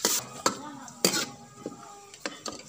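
Onions are sautéed in a pot in a village-style kitchen, heard as a few faint, separate scrapes and clinks of a spoon against the metal with quiet gaps between them.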